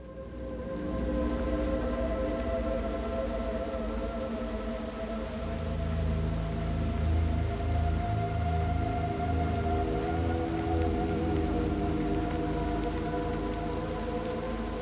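Rain in the video game Little Nightmares II falls as a steady, dense hiss over a low droning ambience that builds slightly after the first few seconds and stays constant throughout.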